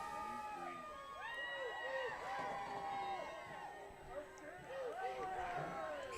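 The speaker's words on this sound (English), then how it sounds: "now the crowd has awoken again here" A crowd at a high school boys' soccer state tournament game between Lander and Riverton cheers and shouts in a rising, distant roar, with many overlapping voices and excited yells throughout.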